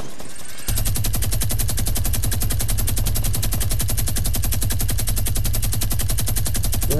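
Rapid, sustained automatic gunfire in a base-capture video game, a loud, relentless stream of evenly spaced shots that starts abruptly after a brief moment and hammers on to the end without pause.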